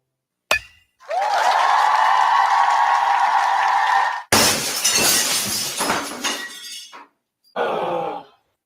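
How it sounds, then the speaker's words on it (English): Glass breaks as a sound effect for a car windshield and window repair ad: a sharp impact, then a long loud ringing whoosh, a crashing shatter with tinkling fragments, and a final brief burst of falling shards. "When the thrill of playing ball turns into the agony of a broken windshield or car window"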